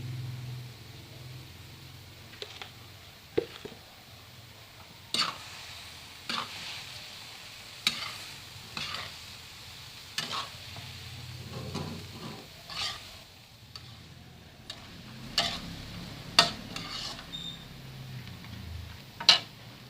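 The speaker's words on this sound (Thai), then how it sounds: "คลุกเคล้าส่วนผสมให้เข้ากันนะครับ" Coconut shoots and minced pork stir-fried in a pan give a soft continuous sizzle broken by regular sharp scrapes and taps of the spatula, heard close with no talking.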